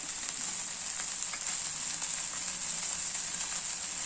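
A dosa fries in a little oil on a hot pan, giving a steady, continuous hiss and sizzle with soft crackle, close by and unbroken from start to finish.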